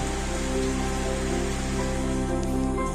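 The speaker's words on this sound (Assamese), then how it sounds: "বাহিৰত পুৰা বৰষুণ" Heavy monsoon rain pattering steadily outside at Deopani Durga temple in a forest in Assam, a constant wash of drops over a low humming drone, with no one speaking.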